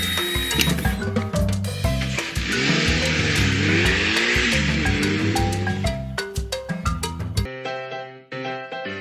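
A car revs and squeals its tires while driving in a cartoonish sound effect, with a sustained engine roar and clanking bursts, ending in a few sharp metallic hits.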